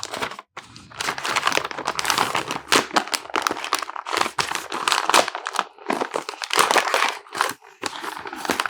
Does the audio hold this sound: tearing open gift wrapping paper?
yes